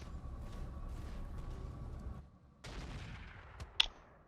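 Heavy rifle fire in BattleTech with the RogueTech mod: a series of booming gunfire bursts rumbling through the first two seconds, a short lull, then renewed fire ending in one sharp, loud crack near the close.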